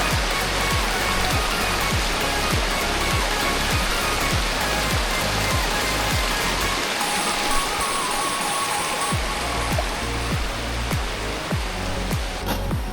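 A small stream flowing beside the path to Khoiyachara waterfall in Mirsharai gives a steady, close, broadband rush of water that runs unbroken throughout, with no talk.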